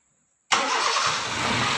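A used car's engine cranks on the starter after a second of silence and abruptly catches, settling into a steady, close running rumble with no talk.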